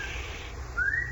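A man whistles softly as part of a told story, a faint thin tone that fades and then rises again briefly near the end over a low background hum.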